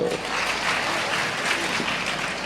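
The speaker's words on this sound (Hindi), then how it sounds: "बहुएं ताली तो बजा दो" Dense, continuous applause from a crowd at a Hindi religious discourse on family life, a broad wash of many hands clapping at once, with some voice mixed in.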